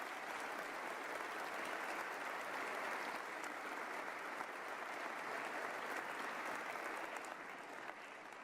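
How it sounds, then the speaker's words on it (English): Sustained audience applause at a state of the state address, a dense wash of clapping from a large crowd that holds steady and loud before easing slightly at the end. "But please give them a big round of applause."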